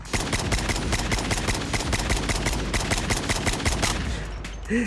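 Rapid SKS rifle gunshots from the Call of Duty Mobile video game ring out in a dense, steady string of loud cracks that runs the whole way through, with a brief tonal game sound at the very end.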